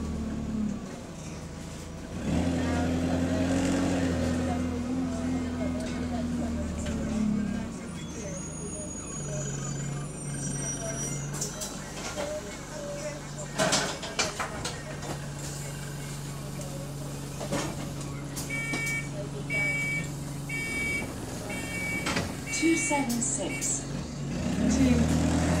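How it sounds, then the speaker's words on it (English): GAL SE129 bus with a burst exhaust on a city route, a low steady engine and exhaust drone heard from inside with gear shifts and idle stretches, while people talk over it throughout. "The engine, the exhaust sounds cold,"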